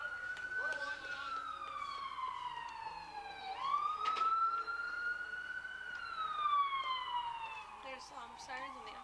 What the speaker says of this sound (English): There's sirens on the other side too, like fire